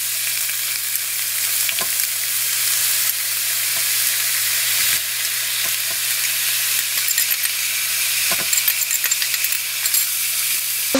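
Seasoned dried yellow croaker (gulbi) sizzles steadily in a pan over lowered heat, a continuous close frying hiss with a few faint clicks and taps, no voices.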